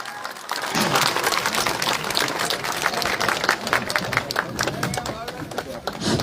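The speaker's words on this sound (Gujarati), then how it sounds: "જોરદાર તાળીઓથી ઈસુભાઈ ગઢવીને." A large crowd at a political rally claps loudly and continuously to welcome a party leader, the dense applause building quickly after a brief quiet start and holding throughout.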